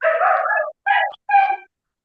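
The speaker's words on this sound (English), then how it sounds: "Master Patrick is frightening people with white dog" A white dog gives three short vocal bursts, one longer yelping cry followed by two brief barks, close and fairly loud with silent gaps between them.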